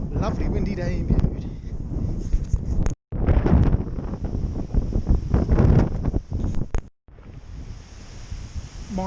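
Strong gusty wind in Bude buffets the microphone in loud rumbling bursts, with brief cutouts in between and a faint surf-like wash behind it.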